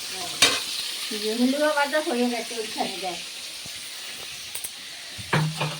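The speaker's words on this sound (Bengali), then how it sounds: "এখানে মাছ ভাজা হচ্ছে ভোলা মাছ" Bhola fish sizzles steadily in hot oil in a pan, a constant hiss with a short stretch of someone talking over it.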